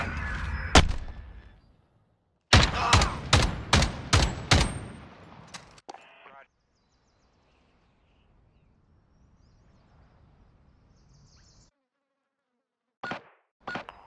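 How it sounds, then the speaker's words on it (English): Gunfire in Call of Duty: Modern Warfare gameplay: a single loud shot, then a rapid burst of sharp, close shots, a long near-silent stretch, and two more isolated shots at the end. "Gunfire."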